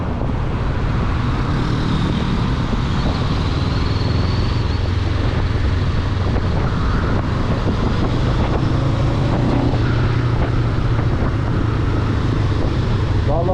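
Honda CBR 500R motorcycle on a test ride in Istanbul, engine droning steadily beneath heavy buffeting wind noise, loud and constant from start to finish.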